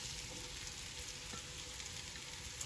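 Potatoes for roasted rosemary potatoes sizzling steadily in a hot pan, a dense, even frying hiss that carries on without a break and with no talking.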